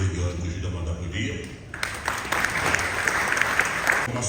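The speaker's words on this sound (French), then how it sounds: "Abdoulaye Dione, que je demande d'applaudir" An audience applauding at the Dakar international book festival, a soft patter of claps that swells into sustained, fairly distant applause after a brief spoken introduction.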